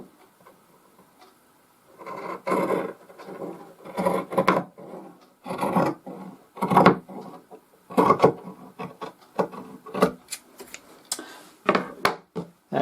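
Scissors cut the sleeve off a fabric long-sleeve top. Irregular rasping snips and rustles come in bursts over about eleven seconds, close and moderately loud.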